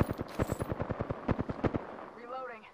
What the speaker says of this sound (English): she's getting shot at